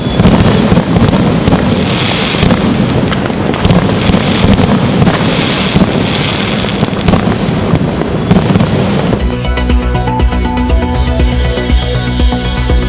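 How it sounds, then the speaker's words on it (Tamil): New Year 2024 fireworks on Christmas Island, a loud, dense stream of crackling and popping bursts with wind buffeting, giving way to music near the end. "வான வேடிக்கைகளுடன் பொதுமக்கள் உற்சாக கொண்டாட்டம்."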